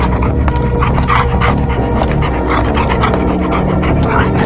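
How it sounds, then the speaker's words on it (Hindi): A dog in a haunted house in a horror cartoon makes panting, whimpering sounds with some barking, steady and fairly loud throughout under a dense noisy background. "हमारे घर में एक कुत्ता था जो मुझे देखकर भौंकने लग गया।"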